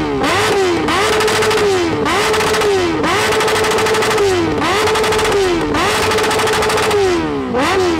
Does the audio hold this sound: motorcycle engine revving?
yes